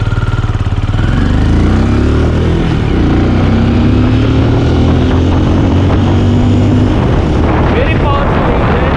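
A 2021 Benelli Imperiale 400 BS6 motorcycle pulls away in first gear with a smooth, refined exhaust note. The engine drone climbs and falls steadily under heavy wind rush, and a rider talks over it.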